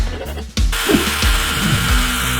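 A power drill whirs close and loud while boring holes in a Honda Shadow motorcycle part for a bobber build, the motor pitch dipping repeatedly under load.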